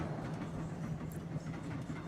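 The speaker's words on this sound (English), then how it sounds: "The train winding up the side of the mountain." Mountain train winding up a steep rock-walled grade toward a summit station at night, a faint, steady rumble with soft rhythmic clatter of wheels on rail.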